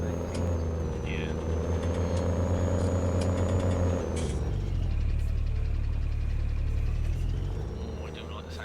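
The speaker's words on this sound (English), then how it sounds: "I do like the sound of that tractor at idle" A Case tractor in Farming Simulator 19 idles with a steady, loud low engine rumble throughout, shifting slightly in tone partway through, close up with faint higher mechanical whine and a voice talking over it at times.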